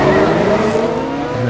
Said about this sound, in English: And the cars are off